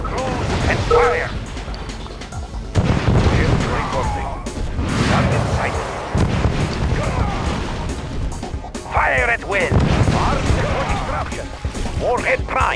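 Battleship artillery in Red Alert, a naval strategy game on an inland lake with Dreadnought-class warships, booms in repeated heavy blasts and crashes, several loud impacts spread across the stretch amid dense game effects and short unit voice lines.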